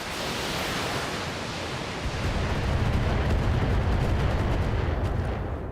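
Heavy weapons fire and inferno rounds in the BattleTech mech game blend into a loud, dense rumbling roar with booming impacts, swelling midway and sustained like an ongoing barrage.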